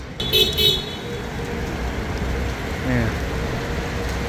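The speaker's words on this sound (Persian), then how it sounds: "باران بارده است" Heavy rain pours down in Mecca during a thunderstorm, a steady dense hiss throughout with passing traffic underneath and a brief horn-like toot near the start.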